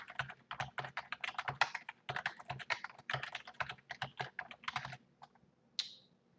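Rapid clatter of a computer keyboard as an email address is typed, quick irregular bursts of keystrokes close and crisp, pausing near the end before one final brighter click.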